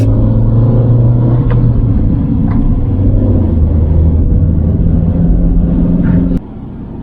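A car on the road toward the west entrance of Crater Lake National Park after a two-hour drive from Grants Pass, its engine and tyre rumble loud and steady before dropping suddenly quieter near the end.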